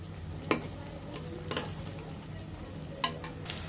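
Eggs frying in a pan of gently heated oil for an egg fry, a soft steady sizzle with a few sharp scrapes or clicks from turning them, quiet and close.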